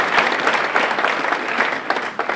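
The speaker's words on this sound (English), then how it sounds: "give them a round of applause" A crowd at a motivational speaking event applauds steadily, dense clapping filling the whole stretch at a loud, even level.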